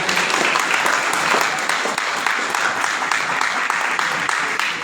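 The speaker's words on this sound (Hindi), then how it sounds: "थोड़ा ताली बजा कर स्वागत करेंगे" Audience at a district training session applauding to welcome a guest, dense steady clapping from many hands filling the room, sustained without pause.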